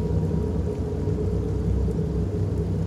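Steady rain hisses under a low, continuous thunder rumble in a psychological horror video game, an unbroken dull roar with no voices.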